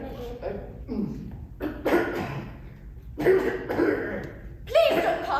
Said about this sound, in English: Please don't cough